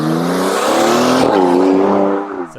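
A 2019 Mercedes-AMG GLC 43 SUV with performance exhaust revs hard nearby, a loud, rising engine roar that peaks, dips briefly and settles, with no talking.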